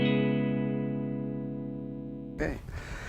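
A single clean electric guitar chord rings out through an amp, sustaining steadily and slowly fading for over two seconds before the sound breaks off into a brief burst of other noise.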